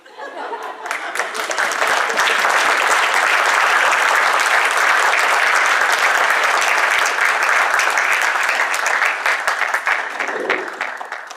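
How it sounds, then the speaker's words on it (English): An audience at a celebrity roast for a senator breaks into loud, sustained applause that swells quickly and holds strong for several seconds, with some laughter mixed in, before tailing off. "But please don't stop applauding until he tells you."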